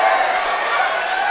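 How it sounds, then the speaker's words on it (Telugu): An audience claps loudly all together in a dense, steady burst of applause that holds at an even level throughout. "ఒకటేసారి గట్టి చప్పట్లు కొట్టండి"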